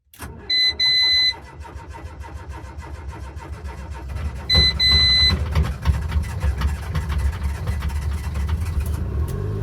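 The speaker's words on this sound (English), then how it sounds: "I don't know if this is going to crank because it's not been started for a while" A Renault Twingo that has sat unstarted for a while cranks after a couple of electronic beeps, catches and settles into a loud, close idle, with no talking.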